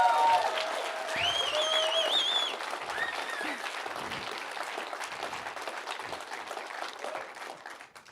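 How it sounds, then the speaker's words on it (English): Audience at a web developer conference applauds the speakers: dense, steady clapping from a large crowd that holds loud and even throughout, fading slightly at the very end, with a few whoops and shouts on top. "Give them a huge rowdy round of applause."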